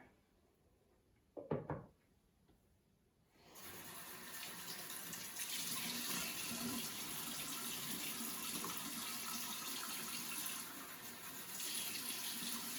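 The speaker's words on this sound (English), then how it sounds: "And then you're gonna wash that off with some warm water." Warm water from a tap runs steadily, rinsing off a facial mask after a brief clatter near the start, then a continuous close splashing flow that holds to the end.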